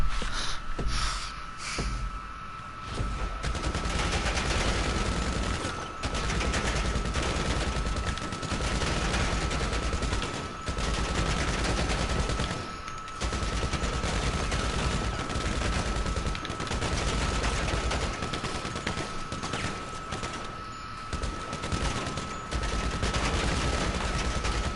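Combat MG machine gun fire in GTA, sustained rapid bursts of automatic gunfire running almost continuously with brief gaps, loud and dense, no talk over it.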